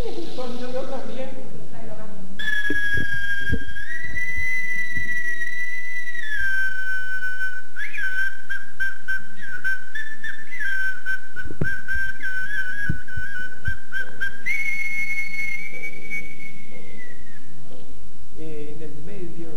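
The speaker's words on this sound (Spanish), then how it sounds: "Este es un nacerétero de los indios tobas que están en el Pilcomayo." A small Toba naceré whistle-like instrument gives sustained, piercing tones that hold and step between pitches in long phrases, with someone talking in Spanish underneath and between the notes.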